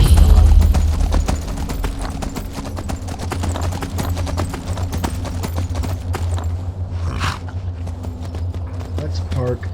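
Steady clip-clop of horse hooves moving at a walk in the video game Skyrim, close and fairly loud, with talk running over it throughout.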